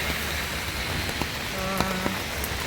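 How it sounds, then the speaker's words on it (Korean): Steady rain falling outdoors, a continuous dense hiss of drops with a few sharper taps and drips standing out against it. "비가 옵니다."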